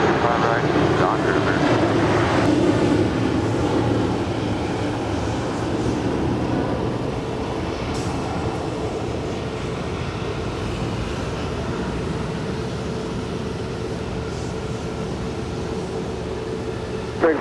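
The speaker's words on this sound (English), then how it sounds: "That is Southwest Airlines Flight 1636 coming in from Dallas, Texas." Southwest Airlines Boeing 737-700 arriving at LAX in Los Angeles, a steady loud jet engine roar with a rushing rumble that fades slightly as it passes, with talk over it.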